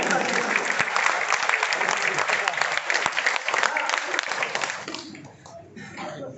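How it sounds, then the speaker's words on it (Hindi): An audience at an RCM training program in Nanded breaks into loud, dense applause that holds steady for about five seconds, then thins and fades. "जोरदार तालियां हो जाए।"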